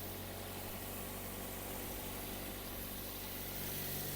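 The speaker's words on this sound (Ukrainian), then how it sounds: "Мотор працює тихо, рівно." A Toyota Avensis 1.8 engine idles evenly, a low, smooth continuous hum with no talking.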